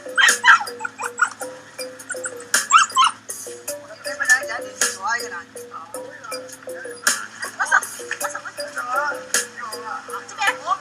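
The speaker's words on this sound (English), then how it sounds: "these, actually, to be fair, look more like the kind of dogs I was expecting to be bred for eating" Dogs at a farm breeding them for meat yelp, whimper and bark in short, repeated bursts, fairly close and busy throughout, with voices talking among them at times.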